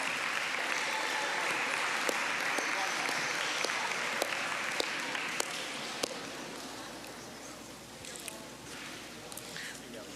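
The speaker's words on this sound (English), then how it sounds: "let's give another round of applause for all of our student athletes" A large audience at a high school athletic awards assembly applauds steadily, with a few sharp individual claps popping out as the clapping slowly softens toward the end.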